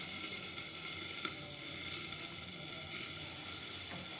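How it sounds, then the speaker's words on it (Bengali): Round paneer kofta balls fry in hot oil with a steady, even sizzle and hiss that stays fairly soft and constant throughout, with no talking. "এটা ভেজে নেবো পনিরগুলো।"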